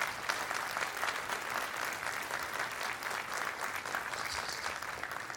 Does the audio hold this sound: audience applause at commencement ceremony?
yes